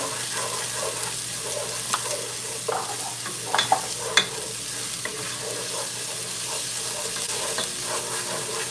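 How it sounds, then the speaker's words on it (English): Onions, sweet peppers and pimentos sautéing in a pan give a steady close sizzle under occasional stirring clicks and scrapes, with faint water-like hiss throughout. "Something about onions sauteing with sweet peppers smells really good."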